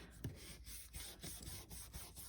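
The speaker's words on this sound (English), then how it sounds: "burnish it a little bit" Soft, low rubbing strokes as a paper napkin is burnished down onto a journaling card, a few faint repeated passes close by with no talking.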